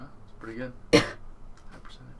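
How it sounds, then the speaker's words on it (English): A single sharp cough bursts out near the mic in the middle of a relaxed podcast chat, loud and brief, with casual talk before and after it. "It was a cough."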